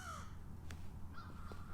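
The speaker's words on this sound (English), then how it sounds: "These birds." Crows cawing outside, a few harsh calls heard at a distance over a low steady background hum, with no talking.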